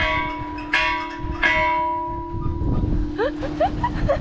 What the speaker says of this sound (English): They've actually got a bell right here as well